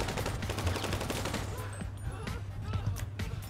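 Gunfire in the video game GTA V, a dense run of rapid shots and bursts over a continuous low rumble, loud and sustained throughout.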